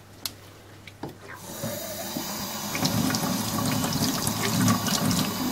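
Running water splashes steadily over hands being rinsed clean of stains after using lemon, outdoors while picking wild blueberries in Sweden; a couple of sharp knocks come first, then the flow builds and continues close by.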